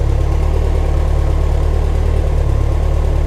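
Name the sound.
Lotus Esprit engine idling after warming up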